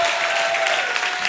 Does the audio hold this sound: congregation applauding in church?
yes